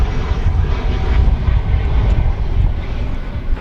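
Airbus A319 airliner arriving from Guadalajara on final approach to runway 18 right at DFW, its engines a loud, continuous low rumble and whine just before touchdown.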